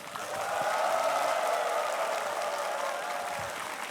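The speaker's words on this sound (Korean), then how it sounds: "최강현 교수님께 다시 한번 큰 박수 부탁드립니다" An audience applauding a professor after a public lecture on family psychology, a soft, even wash of many hands clapping that sounds distant and slowly fades.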